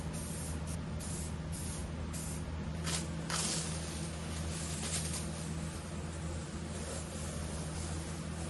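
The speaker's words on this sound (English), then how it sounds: "I then sprayed in 4 very thin coats of semi-gloss black spray paint" Semi-gloss black spray paint hisses from an aerosol can onto a helicopter windscreen in a steady, soft spray, with a few short, brighter bursts along the way.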